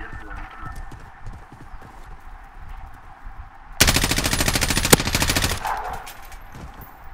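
A loud burst of rapid video game gunfire lasts about two seconds, dense and continuous, following quieter game sounds and voices.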